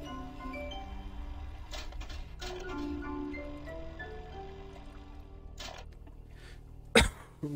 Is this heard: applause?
no